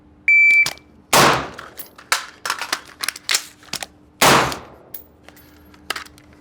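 A rifle fires several loud, sharp shots during a combat reload drill on a shooting range. A timer beep comes first, then single cracks follow at uneven intervals among handling clicks and metallic clatter.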